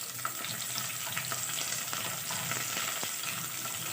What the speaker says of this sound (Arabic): وهشوح بقى الخضار ده كله كده